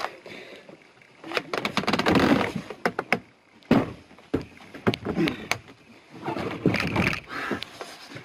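A kayak is set down onto Merchants Lake in Algonquin Park, with close hollow knocks, scrapes and thuds from the hull, and bursts of splashing and sloshing water in between.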